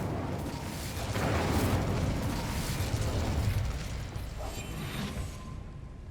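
Incendio fire spell cast in Hogwarts Legacy, a dense roaring burst of flame that swells and then slowly fades over several seconds, full and close with no talk.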